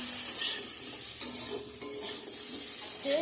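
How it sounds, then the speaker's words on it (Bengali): Teasel gourd slices frying in a pan, a loud, close, continuous crackling sizzle with occasional stirring scrapes and light utensil clinks. "তো কারকোল ভাজাটাও বসে দিয়ে দিছি এদিকে"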